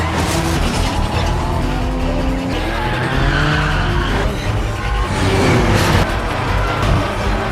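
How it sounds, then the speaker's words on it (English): A car brakes hard during a mountain-road race in a Fast & Furious film, its tires skidding in a long, loud screech layered over engine roar, shifting in pitch as the squeal continues. "Sean hits the brakes just in time"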